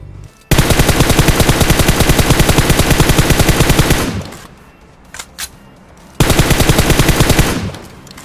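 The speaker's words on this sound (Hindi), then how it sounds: "तो पीछे से मुझे गोलियां चलने की आवाज आती है" Sustained machine gun fire in a video game rattles loud and close in two long automatic bursts, separated by a lull holding a few scattered distant shots.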